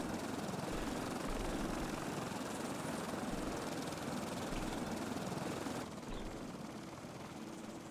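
A helicopter in the survival video game Stranded Deep, a steady loud rotor and engine drone that runs without a break, easing slightly in level near the end.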